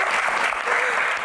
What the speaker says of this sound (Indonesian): Tepuk tangan tuh keduanya.